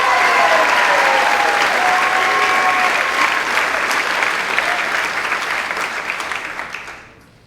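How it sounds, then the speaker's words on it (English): Dense crowd applause fills a spring school concert hall to honor clarinetist Frank Young, loud and sustained before tapering off over the final second; a faint voice calls out early on. "So please give a round of applause one more time for Frank Young on the clarinet."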